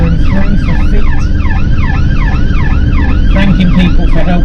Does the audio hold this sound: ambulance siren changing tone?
yes